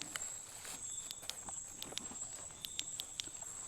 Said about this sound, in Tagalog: May naglalakad.